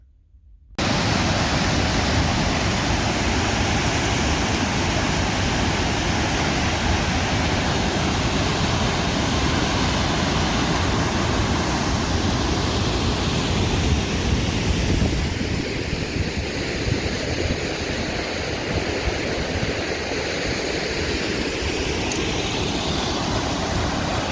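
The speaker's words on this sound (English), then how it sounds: "I don't know if you can hear me over the waterfalls," Little River Canyon Falls, a waterfall in a canyon, roaring as a loud, steady, broadband rush of water that continues unbroken from near start to finish, close and dominant with no clear voices.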